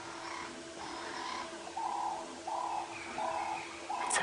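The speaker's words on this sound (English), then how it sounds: "The doves are also being exceptionally vocal." Doves cooing in bush at dawn on a safari drive, a series of soft, rounded coos repeating about every half second to a second, moderately near over a steady background of other bird calls and morning ambience.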